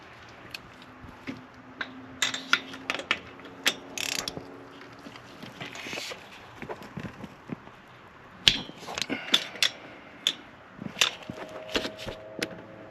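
A ratchet wrench tightens engine studs in a torque sequence during solid roller lifter work, giving quick bursts of sharp, close clicking with short pauses between strokes.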